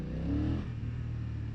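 A 2025 BMW F900XR motorcycle accelerating hard on the throttle, its engine note rising close and loud for a moment before easing off into a steadier drone.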